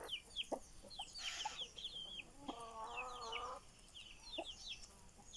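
A rooster kept with hens in a backyard flock clucks faintly and intermittently, with a longer drawn-out call in the middle, all heard quietly from a distance.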